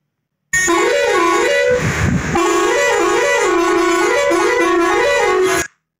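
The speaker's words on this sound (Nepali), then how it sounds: "तपाईले हर्न पनि सुनाइदिन्छु" A vehicle horn in a video game with a Nepali traffic mod sounds one long, loud, continuous musical blast, its warbling melodic tone rising and falling for about five seconds before cutting off.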